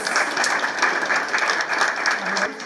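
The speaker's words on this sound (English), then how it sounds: "Let us give a round of applause." Round of applause at a school library opening, a group clapping fairly close in short uneven swells, with some voices mixed in around the clapping.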